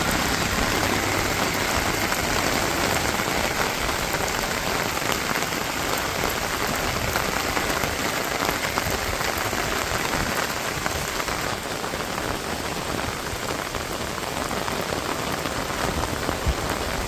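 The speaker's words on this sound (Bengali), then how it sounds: "আজকে আবার একটু পাইলাম বৃষ্টি" Steady daytime rain falls over a windy rural Bangladeshi village, a continuous even hiss of drops striking the ground and roofs, heard alone and unbroken.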